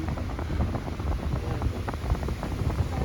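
Strong wind outdoors in foggy, forested hill country roars steadily against the microphone as dense low rumbling buffeting, with no voices.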